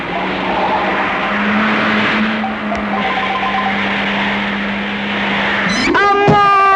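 An expensive car in a Bhale Mogudu movie scene roars with a steady engine drone and screeching tyres, then a sudden skid and sharp crash near the end.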